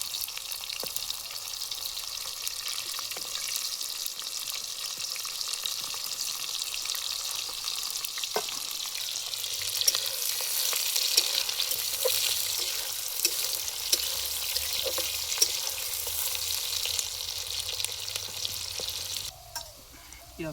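Chopped onions sizzle in hot mustard oil in a wok, a steady hiss of frying that runs on and on, with a few soft stirring knocks and a brief clatter at the very end.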